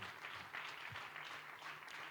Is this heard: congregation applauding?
yes